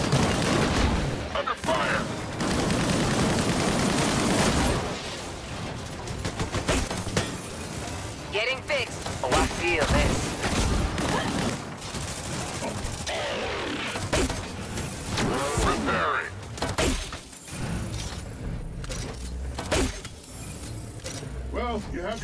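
Gunfire and explosions in a Disintegration cutscene, bursts of shots and booms scattered through the scene, interleaved with voices talking and shouting amid mechanical noise, fairly loud and varying in intensity.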